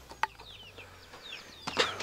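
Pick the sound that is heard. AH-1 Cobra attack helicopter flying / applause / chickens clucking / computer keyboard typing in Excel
chickens clucking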